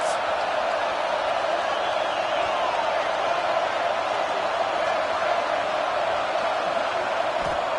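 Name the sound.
stadium crowd cheering in a college football video game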